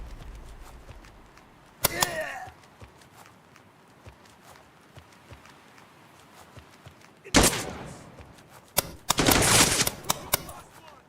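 Gunfire in a tactical shooter game: a sharp single shot, then after a lull a loud burst of rapid automatic fire with further cracks, close and punchy over a low ambient bed.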